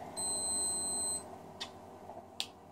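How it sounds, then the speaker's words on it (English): A machine gives one sustained high electronic beep lasting about a second, clear against quiet room noise, followed by a couple of faint clicks. "Why do machinery always beep?"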